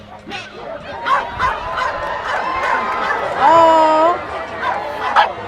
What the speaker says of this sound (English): So many Corgis.